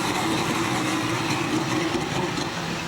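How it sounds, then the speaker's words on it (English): The Red Bull RB11 Formula 1 car engine drones during pre-season testing at Jerez, a steady mid-pitched hum with a continuous rough edge, moderately loud and unbroken, no voices. "Now this is the new Red Bull, the RB11, driven by Daniel Ricciardo"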